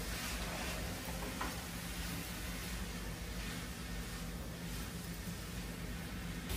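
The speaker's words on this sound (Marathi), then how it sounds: "हे आता आपण त्याच्यात मिक्स करून घेऊ व्यवस्थित" Paneer and fenugreek leaves are stirred in a creamy malai sauce in a hot pan, producing a faint, steady sizzle with soft, continuous mixing scrapes and no speech.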